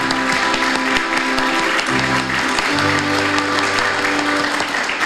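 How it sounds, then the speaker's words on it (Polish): A hall audience applauds warmly at a 50th-anniversary celebration of a Red Cross blood donor club in Głubczyce: dense, steady clapping from many hands, loud and continuous, with music tones sustained underneath. "Gorące brawa."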